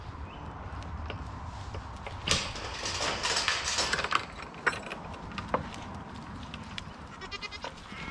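Goats bleating in a farm pen, with several calls rising over a steady background of shuffling, clattering and rustling movement, fairly close and moderately loud, no talking.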